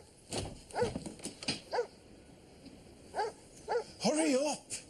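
A Rottweiler guard dog barks in short separate bursts at a fenced site, ending in a longer whining, howling bark, with voices heard around the barking.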